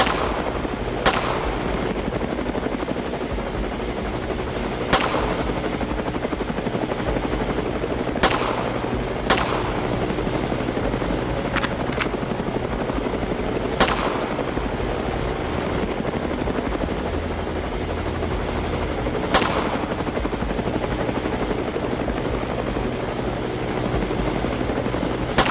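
A hunting helicopter's rotors drone steadily and loudly overhead as a shooter on board fires single sharp gunshots at wild hogs, about eight cracks spaced irregularly over the flight.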